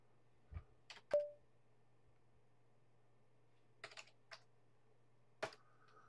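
A few short bursts of typing on a computer keyboard while entering shell commands, separated by pauses, with quiet clicks against a steady low hum.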